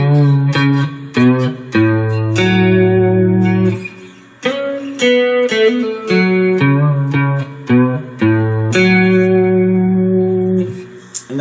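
Four-string cigar box guitar playing a solo, a run of plucked single notes and short sustained phrases with a bent note. Close and clear, with no talking.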